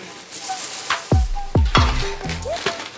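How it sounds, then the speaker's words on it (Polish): Around 50-60 grams of cornflakes tipped out close by, landing in a few crisp, rattling bursts with short pauses between, fairly loud, with no talking. "więc przesypujemy płatki"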